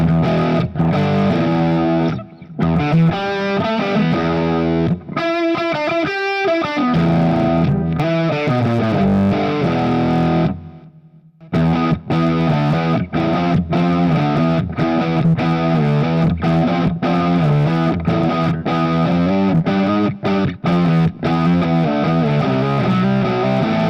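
Electric guitar played through a Positive Grid Spark 40 amp on its Marshall Plexi 1987X model, loud distorted rock riffing with sustained chords and choppy palm-muted bursts, one brief drop near the middle.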